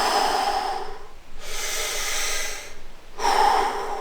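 Exaggerated deep breathing from the stomach and diaphragm, as practised for mountain-bike climbing: three long, loud, close breaths, each a broad airy rush with short quiet gaps between, alone without talk.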